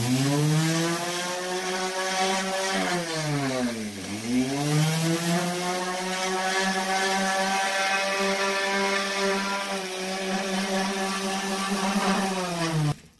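Orbital sander sanding paint off a mailbox: a loud, steady motor whine that runs without a break, dipping in pitch once partway through as it bogs down, then holding until it cuts off at the end.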